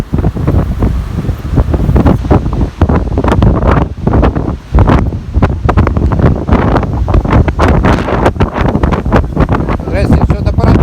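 Squall winds buffeting the microphone on the Kobuleti seafront, with heavy sea waves surging beneath, a loud, continuous roar broken by gusty bursts throughout.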